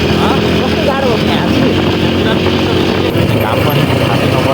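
Powerful motorbike engine ridden uphill toward Sarangkot near Pokhara, a loud continuous drone with wind buffeting close to the mic throughout, steady with no pauses.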